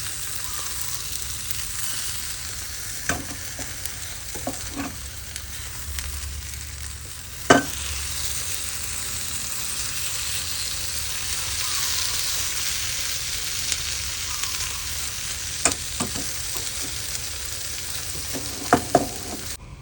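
Thai-style hotel omelette of beaten eggs frying in a pan, a steady close sizzle and crackle with a few sharp taps and scrapes as it is gently flipped back and forth, no talking.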